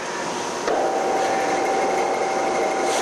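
Carell A31 series plate roll machine being adjusted for pinch pressure: a motor kicks on partway through with a sudden jump into a steady, loud mechanical hum holding a high whine.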